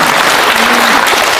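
Loud, dense applause from an audience at a lecture hall event, sustained clapping throughout with no voices on top.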